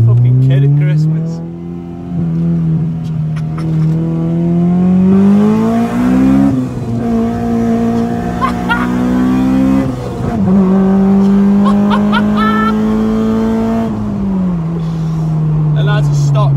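Stock Honda B16A VTEC engine, with no intake and a stock map, fitted in an EJ9 Civic. It revs loudly and repeatedly, the pitch climbing and dropping over several cycles close by, with voices talking at times.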